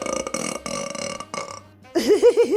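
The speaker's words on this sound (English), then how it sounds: "that was a big burp" A long, loud, wavering burp rolls out after a stretch of animated talk, and a voice puts on a cartoonish tone just before it.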